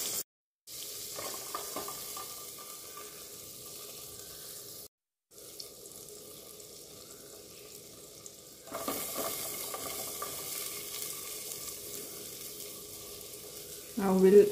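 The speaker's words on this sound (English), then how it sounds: "I put about 2 tablespoons of butter into a saucepan, and now I'm going to add the garlic and the onions." Garlic and onions sizzle in butter in a saucepan, a soft steady hiss that drops out twice in brief gaps and grows louder in the later part, with no speech.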